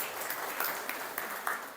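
Light applause from a small audience at a Catholic confirmation class, a soft steady patter of clapping heard from a moderate distance with no one speaking.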